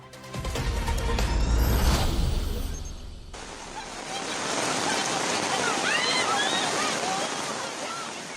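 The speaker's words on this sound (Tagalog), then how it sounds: "Sa gitna ng malakas na ulan at agos ng ilog" A flooded river surges through heavy rain in a loud, steady wash of water noise, with a news narrator's voice speaking over it.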